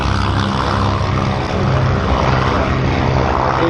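Vintage twin-engine propeller aircraft resembling a Mosquito at an air show, a loud continuous engine drone that stays steady and close for the whole stretch.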